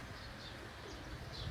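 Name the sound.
birds chattering at temple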